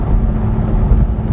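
Ferrari 550 Maranello V12 in sixth gear at cruising speed, a loud steady low engine drone with road rumble from inside the cabin, no speech.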